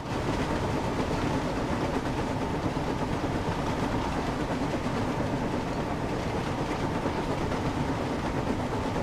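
Train from the Thomas and Friends: Wonders of Sodor video game running steadily, a loud continuous rumble and rattle with clickety wheel noise throughout, no talking.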